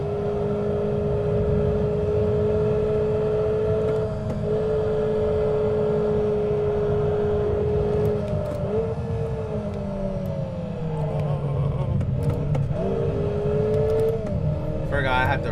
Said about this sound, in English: I like how I can rev match when I downshift.